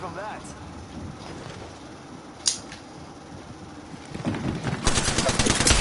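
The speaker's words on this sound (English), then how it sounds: "I hear guns." Rapid automatic gunfire from a video game breaks out near the end, as a dense rattling burst after a quieter stretch with a single sharp shot, and people talk over it.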